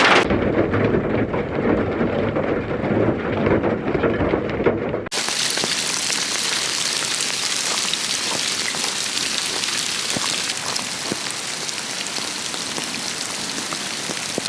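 Hail pelts down hard in a Portuguese storm, a dense, steady roar of impacts drumming on a surface throughout, with deep low rumbling at the start.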